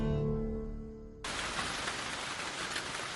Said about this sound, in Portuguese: Quando a chuva chega na Nova Guiné, nada nem ninguém escapa do dilúvio.